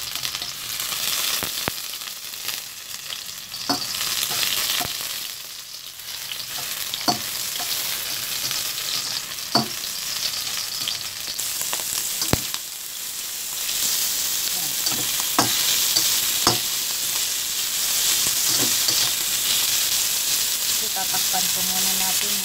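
Meat browning in a hot pan for Bicol Express gives a continuous close sizzle, punctuated by sharp, irregular clacks of a utensil stirring against the pan.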